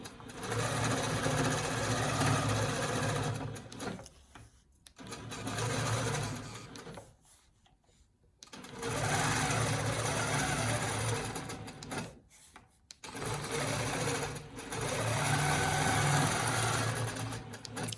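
A longarm quilting machine running under Pro-Stitcher control with a ditch ruler sews in steady continuous runs, stopping twice briefly for ruler repositioning before resuming its close, even hum.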